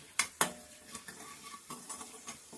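Elephant foot yam curry ingredients roast in a pan, with two sharp scrapes near the start followed by soft, regular stirring taps and a faint sizzle.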